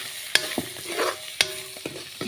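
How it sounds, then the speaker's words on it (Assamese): Dried fish frying in a pan with eggplant, turmeric and salt, with ginger and garlic going in; a soft sizzle runs under sharp spatula scrapes and clinks against the pan, about every second, close up. "এইখিনি এতিয়া অলপ ভালকৈ মই ভাজি ল'ম।"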